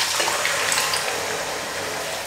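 Boiled potatoes and their cooking water are poured into a pan while making a Palakkad-style potato kurma, giving a steady, close rush of splashing liquid that continues unbroken for a couple of seconds with no talk.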